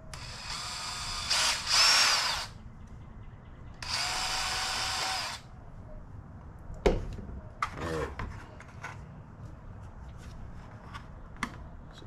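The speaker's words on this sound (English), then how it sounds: "I think I better drill this one first" A power drill drilling into a plastic bucket whirs in two short bursts of a few seconds each, loud and close, followed by quieter handling clatter and knocks.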